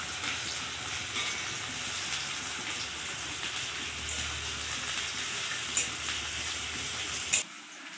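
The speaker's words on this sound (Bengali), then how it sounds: "এখন পেঁয়াজটা ভেজে নিচ্ছে।" Onions fry in a pan, giving a steady, loud sizzle that holds for about seven seconds, then a sharp clatter and a sudden drop to quiet at the end.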